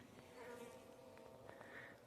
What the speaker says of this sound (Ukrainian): Бджоли.